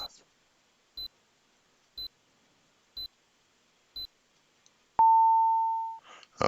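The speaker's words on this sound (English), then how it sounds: "when it hits 10 and under, we're going to get a beep, like a countdown" A countdown timer beeps four times at steady one-second intervals, short sharp tones, then ends with a longer sustained end tone that fades out, all with no talk.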